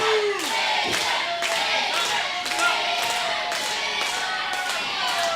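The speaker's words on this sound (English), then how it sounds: "The crowd's starting to get behind Razor now as they're working their way up" A crowd at a kids' wrestling show cheers and claps through a steady roar, with repeated sharp thumps and slaps cutting through the noise at regular intervals.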